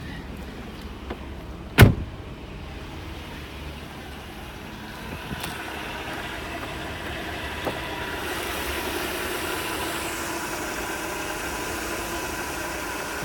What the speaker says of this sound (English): So let's have a look at the engine. See it idling.